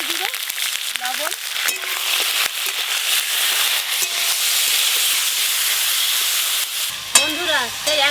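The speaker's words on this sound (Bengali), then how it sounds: "ভেটকি মাছের মাথাগুলো এবার ভালো করে একটু পোড়া করে ভেজে নেব।" Large bhetki (barramundi) fish heads seasoned with turmeric and salt frying hard in a pan, a loud steady sizzle running throughout with brief spatters and stirring scrapes near the end.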